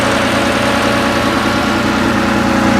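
A Porsche 911 E with a 2.2 liter engine making about 150 horsepower idles with its engine cover open, a steady, dense, even mechanical drone with no speech and no change in pitch.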